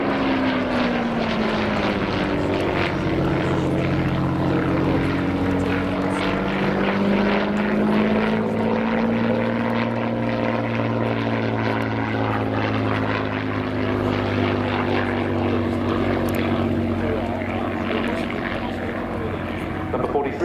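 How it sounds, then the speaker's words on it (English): A Hawker Fury Mark I biplane with a 525 horsepower supercharged Rolls-Royce Kestrel V12 piston engine drones steadily overhead at an air display, its engine pitch slowly rising and falling. A commentator talks throughout. "This Mark I has a 525 horsepower Rolls-Royce Kestrel supercharged V12 piston engine."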